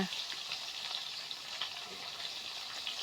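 Fish frying in a pan of oil, a steady dense sizzle with faint crackles holding at an even level throughout, no voices.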